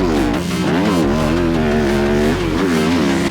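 Dirt bikes rev hard on the throttle while riding through soft sand. The engines give a loud, steady, close buzz with the pitch rising and falling, and no voices are heard.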